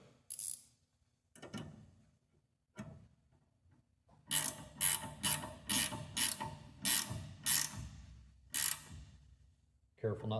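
Ratchet clicking in short bursts while bolts are snugged on a Mr Heater Big Maxx shop garage heater during a propane conversion install, a run of rapid rhythmic clicks near the mic after a few isolated ones.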